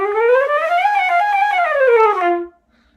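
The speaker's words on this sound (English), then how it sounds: "the flute often gets to play really fast things that sound like" A flute runs through a rapid, continuous passage of quick notes sweeping up and down, played alone and close, then stopping cleanly.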